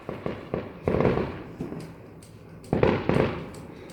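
Fireworks bursting outdoors on Bonfire Night, a rapid series of sharp pops and crackling bangs, several loud clustered bursts with quieter crackle between, moderately distant.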